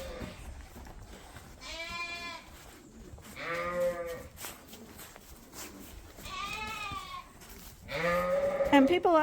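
Sheep and lambs bleat repeatedly in a bottle baby pen of ewes with their lambs, several loud overlapping calls coming in bursts close by, the last one the loudest.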